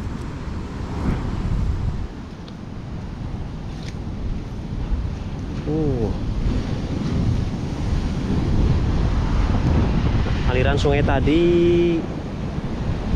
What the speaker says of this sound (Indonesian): Tapi ombaknya gede ini di sini.